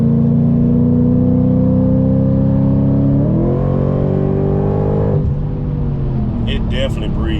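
Supercharged Audi B8.5 RS5 with a JHM exhaust accelerating hard: a loud engine note climbing in pitch, a quick drop at a shift, then rising again, heard close with some voice mixed in.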